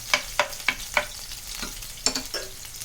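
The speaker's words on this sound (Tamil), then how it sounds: "இந்த எண்ணெய் சூடானதும் பூண்டு போட்டுக்கலாம். பூண்டு நல்லா ஃப்ரை ஆகணும்." Garlic fries in hot oil with a low sizzle under a rhythmic series of crisp spatula taps and scrapes, about five evenly spaced at first, then a few more after a short pause, close and without speech.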